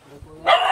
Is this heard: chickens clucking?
no